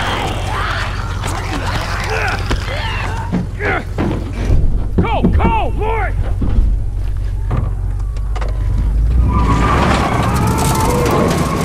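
A truck engine idles with a steady low rumble in the video game The Last of Us, under loud voices, with scattered thuds and mechanical clunks.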